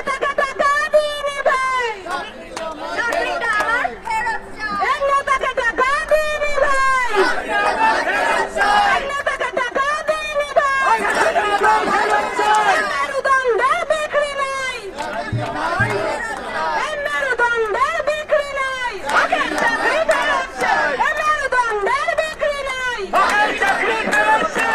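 Crowd of protesting teachers at an SSC scam demonstration, many voices chanting slogans together in a loud, continuous, rhythmic unison that swells and repeats close by.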